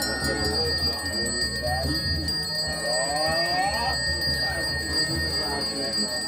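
Ritual hand bells of Hindu and Buddhist tradition, as used at Angkor, ring with steady, sustained metallic tones, while a voice narrates over them.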